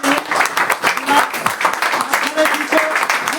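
An audience at a DXN branch office gathering gives a speaker a loud welcoming round of applause, dense rhythmic clapping that stays strong and steady without a break, with some voices mixed in.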